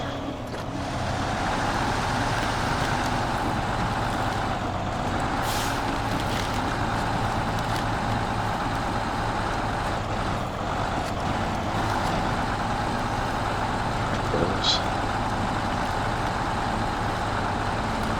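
Truck engine in the video game SnowRunner drones steadily at a low, even pitch for the whole stretch, with a faint brief hiss partway through and no talking.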